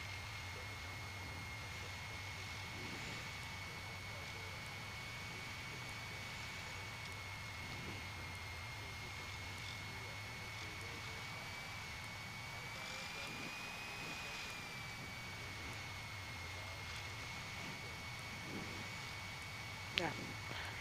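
Piper Warrior II airplane engine in flight on approach with flaps extended, a steady droning hum filling the cabin throughout, with a faint high whine and brief clicks near the end.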